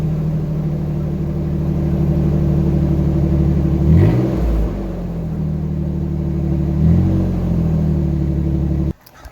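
Toyota Tacoma 4.0L engine with a custom 3-inch exhaust, heard from inside the cab as a steady loud idle rumble with two brief revs, then cutting off near the end.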